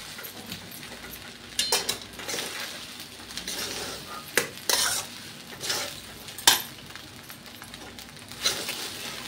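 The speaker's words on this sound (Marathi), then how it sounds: "तर आता आपली छान हलवून घ्यायची आपल्याला." Sabudana khichdi is stirred in a pan, with a spoon scraping and knocking against the metal in irregular clicks over a light, steady sizzle, close and without talk.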